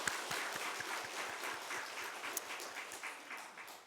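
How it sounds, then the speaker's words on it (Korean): A church congregation at a Sunday worship service applauds the choir with soft, diffuse clapping that sounds somewhat distant and continues throughout, with a faint low thumping pulse underneath. "다시 한번 우리 임마누엘 찬양대를 위해서 박수 한번 드리겠습니다"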